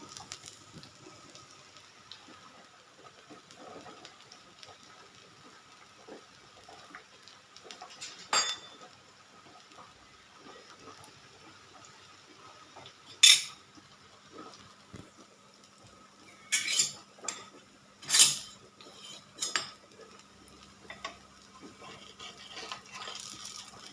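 A bottle gourd semolina uttapam being flipped in a pan, heard as a handful of sharp metallic clinks and scrapes of utensil on pan, separated by quiet gaps over a faint kitchen background.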